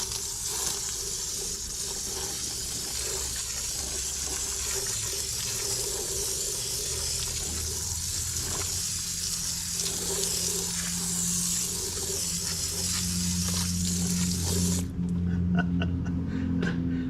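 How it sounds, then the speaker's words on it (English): Hose spray rinsing a glass part fresh from a Wazer waterjet cutter, a steady broad hiss of running water that carries the whole way, with deeper flow tones joining near the end before the spray stops. "let's get the hose and rinser out"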